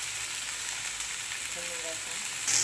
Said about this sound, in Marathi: मस्त तेलामध्ये भाजलेले घेऊ